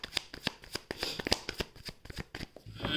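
A deck of tarot cards shuffled by hand close up, producing a fast run of crisp riffling flicks and slaps in steady bursts for a few seconds.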